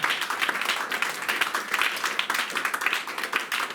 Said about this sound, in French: Let us clap for the King of Kings.